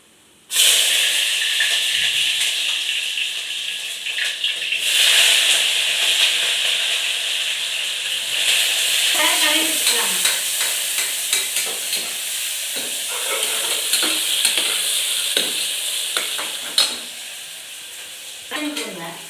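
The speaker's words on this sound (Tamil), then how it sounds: "வெங்காயம், வரமிளகா, பச்சை மிளகா, சீரகம், பூண்டு எல்லாம் தட்டி வச்சுருக்குதுங்க." Loud, steady sizzling of onions, dried and green chillies, cumin, garlic and tomatoes frying in hot oil for tempering, with bursts of crackle and occasional stirring clatter, close up.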